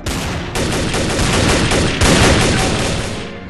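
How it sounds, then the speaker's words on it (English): Video game gunfire rattles in dense, rapid bursts, loud and close, with fresh volleys starting at about half a second and again near two seconds before fading out. "Gunfire."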